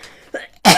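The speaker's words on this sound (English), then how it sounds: "Somebody's coughing." A person coughs into an open microphone during an online folk and bluegrass club session, a short muffled hack followed by one louder, sharper cough, close and alone.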